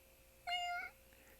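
A cat gives a single short, clear meow, faint and fairly close, in an otherwise quiet room.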